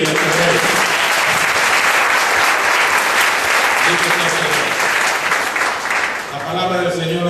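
A church congregation claps loudly and continuously, filling the room, with a voice and sustained tones carrying over the steady applause.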